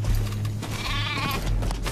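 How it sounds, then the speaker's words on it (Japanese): A sheep bleats loudly and close in the Metal Gear Survive video game, a drawn-out wavering cry over a low background rumble. "仲間が羊を追い立ててくれた。"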